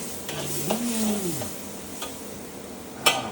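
Tomatoes sizzle and fry in a pan while being stirred, a steady close hiss broken by scraping stir strokes and one sharp clink of a utensil near the end.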